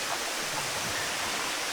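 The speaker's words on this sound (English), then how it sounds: "We're back to the 5th waterfall." Steady broadband roar of rushing water at Erawan waterfall in Thailand, close and loud, continuous without pauses and with no voices over it.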